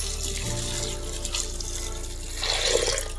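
Water from a tap pours into a pot while green gram curry is being made, a short steady splashing run that grows brighter toward the end.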